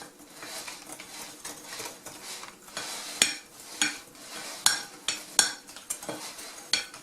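Butter mixture for Strasburger cookie dough being stirred as flour is added bit by bit, a spoon scraping and clinking against the bowl in repeated strokes with sharper knocks every second or so.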